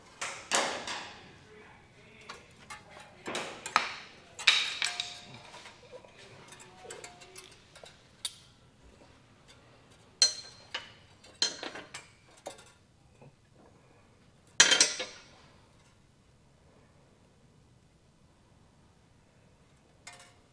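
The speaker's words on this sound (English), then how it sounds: "we'll go ahead and just repeat on the other side, fish wiring our bolts through." Bolts are fished through the frame rail of a 2020 Buick Enclave while fitting a Curt trailer hitch receiver, giving scattered metallic clanks, rattles and ticks at close range with quiet gaps between them.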